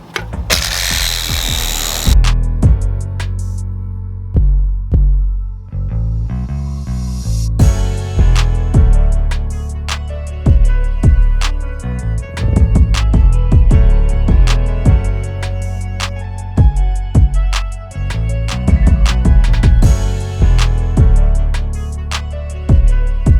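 A power sanding machine works over guide coat on a car fender during bodywork, running loud and close with a steady buzzing drone broken by repeated short bursts and pauses as it is pressed and lifted.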